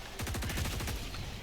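Rapid automatic gunfire from a weapon in Helldivers 2, a loud burst of about a dozen evenly spaced shots lasting roughly a second, with no talk over it.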